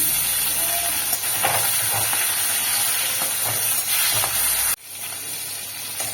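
Flipped fillets of foli fish keep frying in mustard oil, a steady close sizzle with faint stirring scrapes that drops to a softer hiss near the end, no voices heard.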